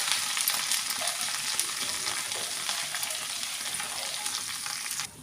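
Loud, steady crackling sizzle of curry leaves frying in hot oil, continuous and close, with no voices.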